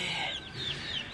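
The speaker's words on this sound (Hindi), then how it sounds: "चूजे तो भाई उधर आ गए सारे" Young chicks in a cage cheep and cluck nearby, a few quick high chirping calls in a short run over a faint background.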